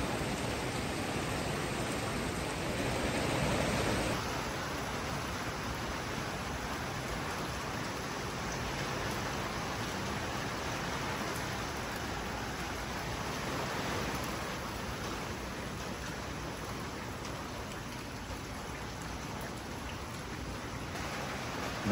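Heavy rain with large drops pours down in a dense, steady roar that hardly changes for over twenty seconds, with no voices.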